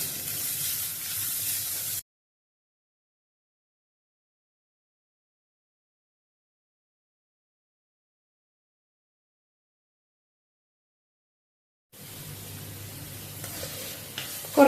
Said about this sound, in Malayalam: അതുവരെ നമ്മൾ കൈയെടുക്കാതെ ഇങ്ങനെ ഇളക്കിക്കൊണ്ടിരിക്കുന്നത്